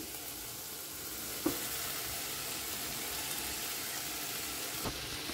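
Soaked toor dal sizzles steadily in a hot pan as it is mixed in, a continuous bright frying hiss with a couple of soft knocks of the spoon against the pan.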